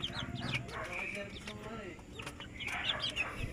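Pet chicks peep and cluck close by in a steady, busy chorus for a few seconds, with a faint voice in the background.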